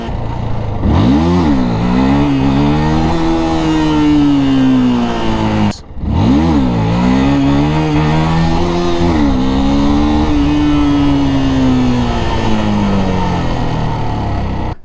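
Motorcycle engine revving hard during wheelie practice, two long rising and holding throttle pulls separated by a brief cut, loud and close throughout.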